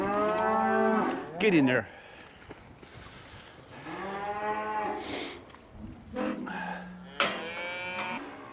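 Cattle on a farm bellow in loud, drawn-out moos during a fight between cows, several calls in a row with short gaps, and someone briefly speaks between them.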